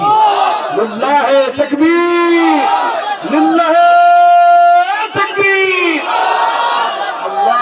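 At a Bengali Islamic sermon gathering, a large crowd roars a sustained, unified takbir chant of Allahu Akbar, loud and near, answering a preacher's call. Speech from the preacher comes before and after.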